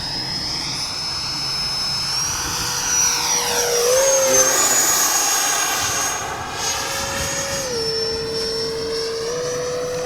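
A Freewing 90mm F4 Phantom II electric ducted-fan RC jet makes a low pass with gear down, a loud steady high whine with a sweeping pitch shift as it flies by close.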